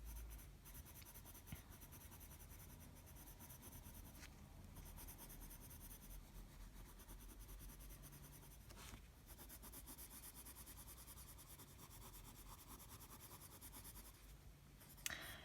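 Colored pencil blends over paper with a soft, continuous rubbing and scratching that goes on steadily and close, quiet and free of talk.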